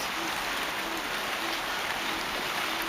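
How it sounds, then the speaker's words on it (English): Steady rain starting to fall outdoors beside a 1914 Dodge Brothers T-bucket roadster under repair, a dense even hiss of drops that runs unbroken and fairly close, with no talk. "It's starting to rain, so I guess I'll give this a break for a while."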